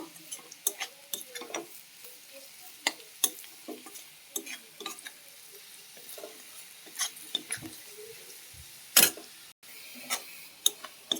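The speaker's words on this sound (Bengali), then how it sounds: "আলুটা আমি একটু ভালো করে ভেজে নেব।" Potato pieces fry in a pan with a soft, steady sizzle broken by irregular sharp ticks and scrapes of a utensil, close up and moderately quiet with no talking.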